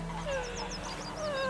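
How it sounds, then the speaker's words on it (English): A goose honks in The Witcher 3, a short run of nasal cries over a steady game ambience and low hum, fairly quiet with no talk. "I think there's a goose running around there with a goose."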